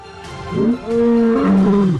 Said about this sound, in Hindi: शेर, बाघ दहाड़ते हैं